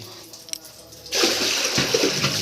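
Running water pours and splashes steadily after a quieter start, a continuous rushing stream close by.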